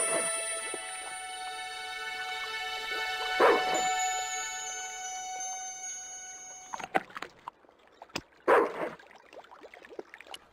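A dog in the point-and-click adventure game Broken Sword II: The Smoking Mirror gives a few short barks and yips, spaced several seconds apart, over steady in-game music.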